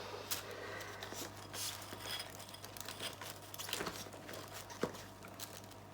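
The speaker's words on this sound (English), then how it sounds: "So I'm just putting down some paper towel now." Paper towel being laid down on a work surface while preparing for an acrylic fluid art pour, soft irregular crinkles and rustles, close and quiet.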